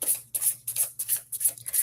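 Tarot cards from a Baroque deck being shuffled by hand, giving a quick run of soft, rhythmic riffling bursts, close and alone.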